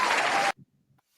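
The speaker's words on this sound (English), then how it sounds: "Let's get some claps for Dochi." Half a second of dense, loud applause for a performer at a Grammy-related block show, cutting off abruptly into near silence with a few faint scattered sounds afterward.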